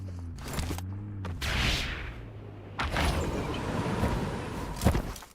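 A vehicle approaching from behind in the PUBG video game, with an engine rumble rising in two stretches, mixed with distant gunfire and other game sounds, fairly loud and without talk.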